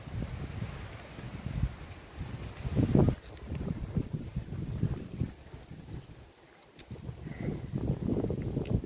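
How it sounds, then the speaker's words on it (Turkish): Gusty wind buffets the microphone in uneven surges, with a low rushing, churning sound like moving water underneath; no voices. "bu rüzgarın eşliğinde ve bu su sesinin eşliğinde"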